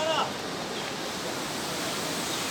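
A steady, broad rush of flowing water fills the scene without a break, loud and close, with a brief voice at the very start.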